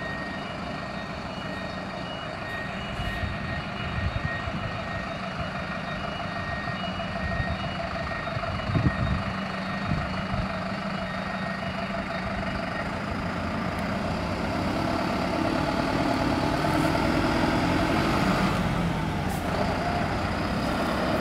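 A Univale bus departing from a bus station in Timóteo, its diesel engine rumbling steadily and growing slightly louder, with a repeating reversing beep and a brief air-brake hiss, no talk.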